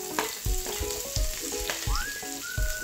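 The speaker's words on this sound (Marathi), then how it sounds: "आता तेल गरम झाले तर त्याच्यामध्ये आता मी सर्वात पहिले कांदा घालते" Onion frying in hot oil in a pan, with a steady close sizzle broken by several clattering stirs and scrapes at irregular moments.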